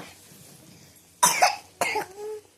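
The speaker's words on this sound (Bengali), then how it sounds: "কত কাশি হচ্ছে গো" A small child coughs twice in quick succession, close and sharp, after a quiet moment of soft room noise, with the second cough trailing into a faint vocal sound.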